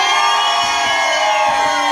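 Live concert crowd at a Las Vegas show shouting and cheering loudly and continuously, a dense wall of whoops and yells with no break.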